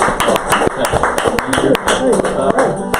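Scattered, sharp hand claps from a small live talk-show studio audience, a few distinct individual claps rather than a dense ovation, with talk running over them.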